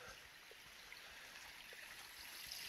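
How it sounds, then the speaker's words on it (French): A faint, steady rush of the Barenton stream flowing nearby at the Fontaine de Barenton in Brocéliande forest, with soft trickling and no voices. "Il n'y a rien d'autre que les oiseaux et l'écoulement de la rivière de Barenton"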